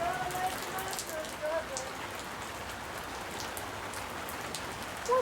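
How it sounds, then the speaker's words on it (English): Steady rain patters on surfaces outdoors beside a Ford F150 during a turbo diesel swap, a dense, even wash of drops with no one speaking. "Raindrops falling on my head."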